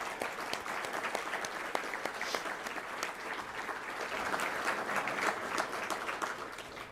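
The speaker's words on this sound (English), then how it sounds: "Everyone, please join me in thanking our after-school professionals by giving them a round of applause" An audience at a city State of the City event applauds after-school professionals, with dense, steady clapping from many hands lasting the whole stretch, heard from a moderate distance with no clear speech.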